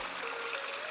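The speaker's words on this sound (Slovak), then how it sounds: "Po ceste, ak sa vydáte k Popradskému plesu zo Štrbského plesa, tak je tu aj takáto studnička." Water trickles steadily from a small roadside mountain spring on the trail between Štrbské pleso and Popradské pleso in the High Tatras, a soft, continuous, close hiss with no voices.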